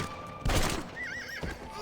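A horse in the Red Dead Redemption video game whinnies in one wavering, fairly close cry after a sudden burst of noise, with hoofbeat-like knocks around it.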